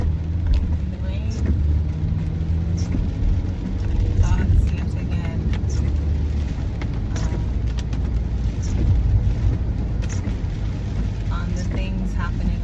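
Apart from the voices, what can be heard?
car driving in the rain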